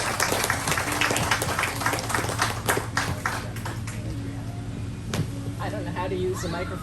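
Outdoor park anniversary crowd clapping for a speaker, a scattered round of hand claps that thins out over several seconds, with a voice talking near the end.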